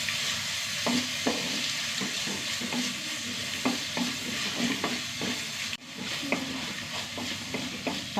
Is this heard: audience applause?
no